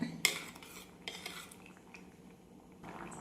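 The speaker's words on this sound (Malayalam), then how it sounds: "നന്നായിട്ടൊന്ന് ഇളക്കി കൊടുക്കാം" Medicinal Karkidaka rice porridge stirred in a pot with a spoon after powdered herbal medicine is added, giving a few faint utensil clinks and scrapes against the pot over a quiet background.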